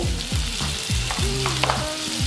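Food fries in a pan over a low flame, giving a close, continuous sizzle with a few faint clinks. No one speaks.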